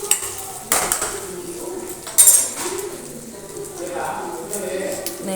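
Cut boiled eggs are stir-fried with well-fried onions in a pan, with a utensil clinking and scraping against the pan a few times beneath steady talking.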